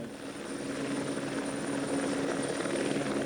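A helicopter at Rochester Airport in Kent, used commercially for public transport, drones steadily with a loud, continuous rotor and engine hum, close and unbroken, with no voices.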